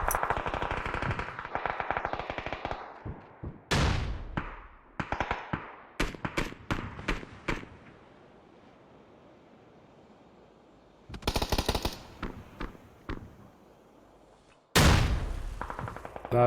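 Automatic gunfire in a PUBG PC esports scrim match: several loud, rapid bursts of shots separated by brief quiet gaps, with a few sharper single cracks, heard alone without talk.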